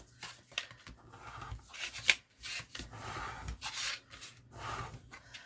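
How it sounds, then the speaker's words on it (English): A bone folder rubs along creased paper folds for a mini book with a floating spine, making quick, close scraping and swishing strokes in an uneven rhythm. "just burnish those folds"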